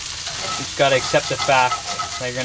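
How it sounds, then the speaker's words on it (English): Crumbled tofu is stirred and scraped around a hot cast iron pan, giving a steady sizzle with scraping bursts while a person talks over it. "So let's give that a stir."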